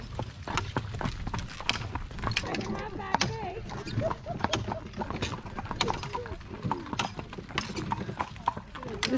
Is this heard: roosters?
no